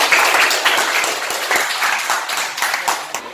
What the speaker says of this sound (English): Give the applause for all of you.